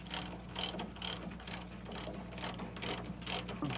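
Ratchet wrench working U-bolt nuts off a vehicle leaf spring, a steady series of rapid clicking pawl bursts repeating roughly every half second, close and fairly quiet over a low constant hum.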